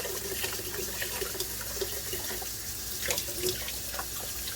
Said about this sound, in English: I'm just going to rinse the outside, which is actually the inside of the bag.